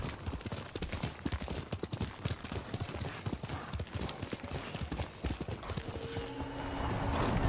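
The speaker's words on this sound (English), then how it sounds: "Good horse, Kage." Horse hooves gallop at a fast, steady clip-clop in the Ghost of Tsushima video game, loud and close throughout, with a brief whinny-like tone near the end.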